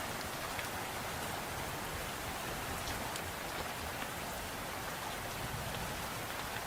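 Steady, soft rainfall with dense patter of drops on surfaces, continuous and even throughout, no voices.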